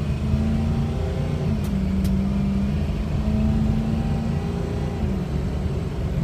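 A 2005 Ford F350 King Ranch 4x4 pickup idles steadily with a low, even engine hum, close and continuous, with no talk over it.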